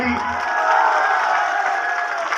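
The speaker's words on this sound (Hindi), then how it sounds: "आशुतोष जी खातिर एगो जोरदार ताली।" A large crowd cheers and applauds at an outdoor political rally in Parbatta, a loud, dense roar of clapping and shouting that holds steady for a couple of seconds.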